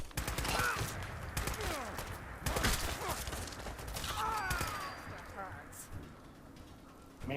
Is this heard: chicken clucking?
no